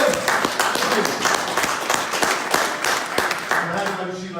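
A crowd at the Jaywick Sands Happy Club gives someone a big round of applause, dense steady clapping from many hands that runs loud throughout with voices mixed in.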